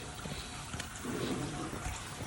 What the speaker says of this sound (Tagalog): Papalabas sila ng tubig